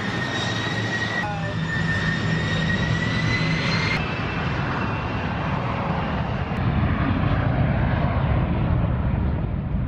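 A jet airplane roars loudly and steadily throughout, a broad rushing engine noise with a whining tone fading after a few seconds, consistent with a landing rollout.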